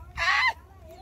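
A loud, harsh rooster call, a single strained crow lasting about half a second, close by, followed by quieter background noise.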